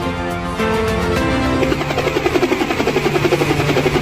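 A loud toy helicopter rotor thuds in a rapid, steady rhythm over a droning engine, growing more pronounced as it goes, with no talking.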